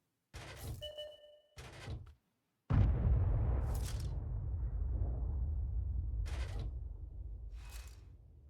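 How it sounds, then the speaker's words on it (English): Distant artillery fires in a tank battle game, a deep boom that rolls out into a long low rumble, preceded by a few short thuds and clicks. "I just heard an Arty fire"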